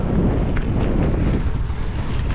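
Wind buffets the microphone in a steady, rumbling roar with no other clear sounds.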